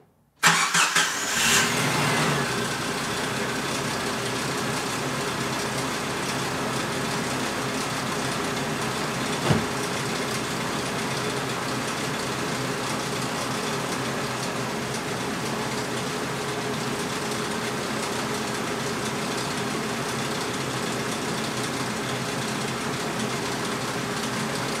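Jeep Cherokee XJ engine starts and settles into a steady idle with an odd underlying noise from the lower front of the engine, loud and continuous with a single brief knock partway through.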